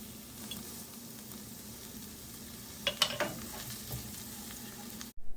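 Pepper, dried thyme, oregano, cumin and garlic fry in a pan for Cuban black beans, giving a steady close sizzle with a few sharp utensil clinks near the middle before it cuts off.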